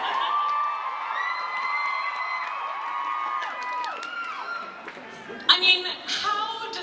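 A convention crowd at a Stranger Things fan panel in Toronto cheers and screams, with high shrill voices sustained for several seconds before a louder burst of shouting near the end.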